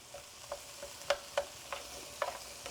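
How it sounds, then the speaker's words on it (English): Onions fry in a pan while being stirred, giving a soft, steady sizzle broken by several light scraping and clacking strokes of the utensil, close by and with no talk. "So now we're basically just waiting for our onions to cook a little bit. So I'm gonna go ahead and mix these."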